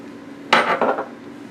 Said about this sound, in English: I'm just going to dump them right on top of this right here because it's all got to drain.